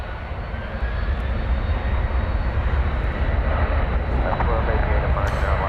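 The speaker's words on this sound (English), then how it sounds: "Here goes the UPS 767" A UPS Boeing 767 jet departs DFW Airport with a loud, sustained engine roar that holds steady throughout, while a voice talks over it.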